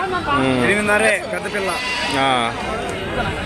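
A male goat at a busy goat market bleats in several wavering, nasal cries close by, with voices murmuring in the background.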